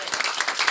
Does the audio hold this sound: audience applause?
yes